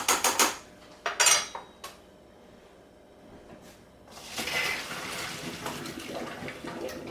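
Freshly cooked broccoli is dropped into a pot in a home kitchen, with clattering metal pot and utensil knocks, then cold tap water runs and splashes steadily into it at close range.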